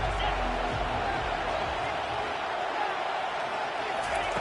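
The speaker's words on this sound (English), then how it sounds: "Third down and the crowd really getting into it." A steady, dense crowd roar fills a stadium in the college football video game CFB25, holding at a constant loudness throughout with no clear peaks.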